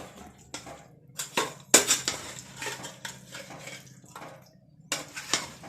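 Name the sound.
mixing ground masala into fried chicken in a pot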